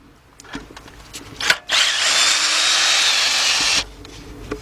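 Cordless impact gun removing intake manifold bolts on a 2004 Chevy Monte Carlo 3.4 engine: a close, loud, steady whir lasting about two seconds, preceded and followed by faint clicks and handling noises. No one speaks.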